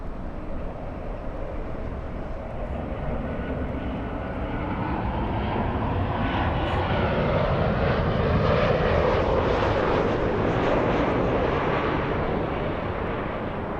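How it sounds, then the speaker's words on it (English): A Delta Airlines A320 jet is pushed back at LAX in gusty wind, a broad, steady roar of aircraft engines that swells slightly toward the middle and holds on without any break or speech. "we do have an A320 being pushed back. That's Delta Airlines 521 flying to DFW"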